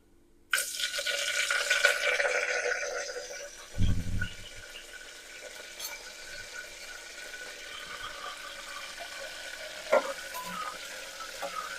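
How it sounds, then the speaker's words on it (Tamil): Spices, a green chili and curry leaves hit hot oil in a frying pan for prawn biryani, a sudden loud sizzle that settles into steady frying, with a clunk of stirring and a later scrape. "போட்டுட்டு கொஞ்சம் கிண்டி விடணும்."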